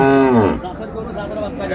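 Cattle moo loudly at a livestock market for dairy cows and calves, one long close low call that fades into background crowd noise.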